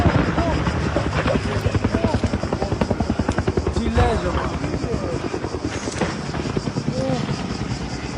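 Bell helicopters fighting a wildfire near Athens, Greece, give a loud, rapid rotor chop that throbs steadily and rises and falls, with raised voices over the noise.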